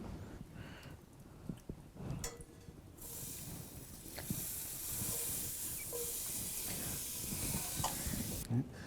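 Butter melts in a hot skillet set over coals while griddle cakes are being made outdoors, giving a steady broad hiss and sizzle under clinking and handling sounds.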